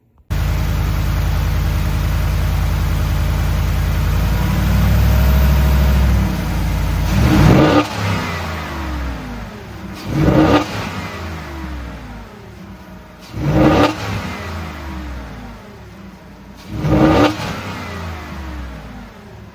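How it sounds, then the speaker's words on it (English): A 2022 Ford F-150 pickup with its stock air intake idles loudly, then the engine is revved four times in evenly spaced bursts, each rising sharply and falling back to a steady idle. "I'm going to turn on the truck and hit the accelerator just to see how it sounds with the stock intake"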